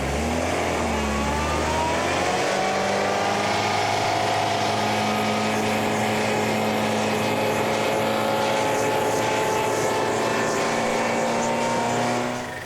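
A rally car stuck in desert sand revs its engine in a loud, continuous drone that climbs and holds steady for the whole stretch.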